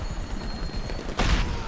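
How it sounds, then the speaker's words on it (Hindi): Gunfire rattles in the video game GTA 5, with a dense run of shots over a steady background and a louder, sharper burst near the end, no talk over it. "अरे यार ये कौन गोली चला रहा है"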